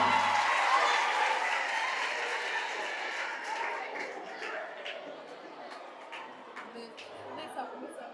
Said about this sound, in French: Le mois de Ramadan, on applaudit pour elle